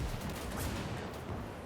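Artillery and machine-gun fire roar in a World War II video game battle, a dense, continuous rumble of overlapping shots and blasts with no clear gaps, loud throughout.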